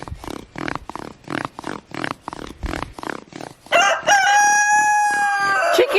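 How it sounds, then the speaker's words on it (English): A chicken clucks in a quick, loud series of repeated bursts, then breaks into a long, harmonic crow that carries to the end, close and alone. "Chicken, can you be quiet for 5 minutes?"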